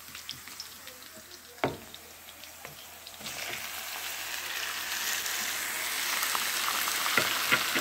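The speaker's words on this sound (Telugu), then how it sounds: "ఇప్పుడు చికెన్ని ఫ్రై చేసుకోవాలి." Marinated chicken fries in a pan with browned onions and green chillies, a steady sizzle that grows louder and denser, broken by a few sharp clinks and stirring sounds.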